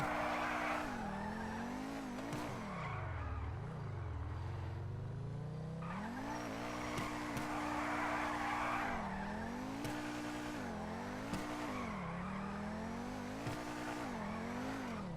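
Game car engine in GTA revving and shifting pitch steadily, with tire squeal and skidding scrubs through the run, loud and continuous without talk.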